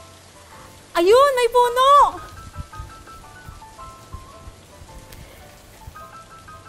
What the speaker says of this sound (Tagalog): Ay! Umuulan!